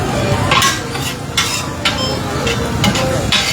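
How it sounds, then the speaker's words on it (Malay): Yellow noodles being stir-fried at a Ramadan bazaar stall in Mukah, Sarawak, with steady sizzling and metal spatula scrapes and clanks against the wok, close and continuous amid outdoor market bustle. "Tu ada orang goreng mi."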